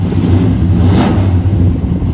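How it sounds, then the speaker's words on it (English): A 1968 Dodge Charger Hemi engine cold-starts and rumbles loudly and steadily, with a brief rise in revs near the middle. "So we're going to do a cold start right now."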